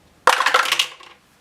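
A pair of HeroQuest combat dice clatter onto a table in one quick rattling burst of bright clicks and bounces that settle within about a second.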